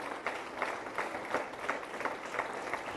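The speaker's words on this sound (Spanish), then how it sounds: "Den un aplauso al Señor en este día tan maravilloso" A church congregation claps in praise during a Spanish-language service, with dense, rhythmic applause rising in regular pulses, moderately loud and steady for its whole length.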